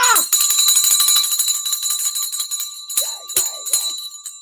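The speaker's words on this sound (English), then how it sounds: "I came on hard on that bell today" A bell is struck hard, ringing out loud and bright with a long sustained tone, then several more sharp strikes near the end as it fades.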